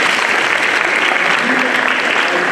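University students applaud together in a hall, a loud, continuous roar of clapping from a large crowd with a faint voice buried in the wash.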